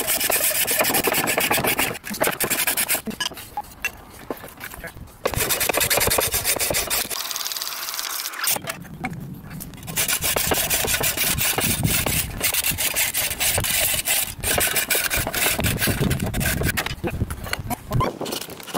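A hacksaw working through metal clamped in a vise, loud close rasping back-and-forth strokes in a steady rhythm, briefly pausing partway before the sawing resumes.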